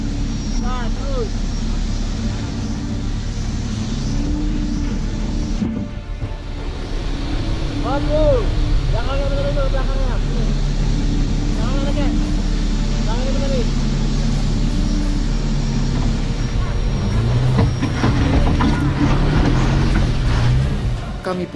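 An off-road vehicle grinding over humid, unpredictable terrain. A loud, continuous low engine drone fills the whole stretch, with voices calling out at intervals above it.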